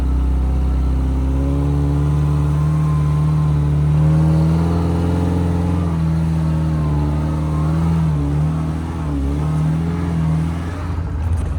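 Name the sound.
Suzuki Samurai engine climbing a steep hill in 4 low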